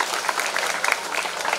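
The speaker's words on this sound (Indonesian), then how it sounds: "Tepuk tangan anak-anak." Schoolchildren applaud during a governor's visit to a junior high school in Kupang, producing a steady, dense patter of many hands clapping at once for a short burst.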